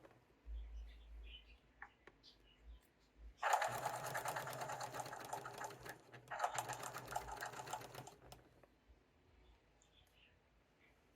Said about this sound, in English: You'll sew all the way around, edge stitching on the edge of the border.